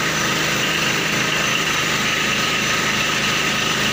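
A small tractor engine idles steadily at close range, a continuous rumbling drone with no talk over it.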